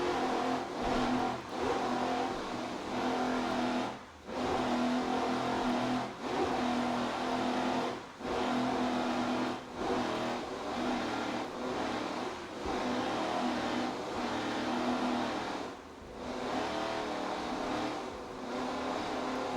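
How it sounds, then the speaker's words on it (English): A 40-foot Fountain offshore powerboat with Stotler engines races at a Miami super boat grand prix, giving a continuous loud engine roar with surging pitch and periodic dips as the hull slams across the waves, with no voices. "This 40-foot fountain with the Stotler power seems to be handling it pretty well."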